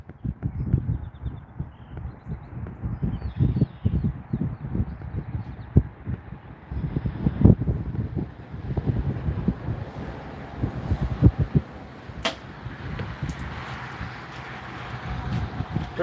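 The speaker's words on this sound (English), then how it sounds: "Little bit of wind." Gusty wind buffets a microphone outdoors at an archery practice range, a low steady rumble with rising and falling bursts throughout, heard alone with no voices.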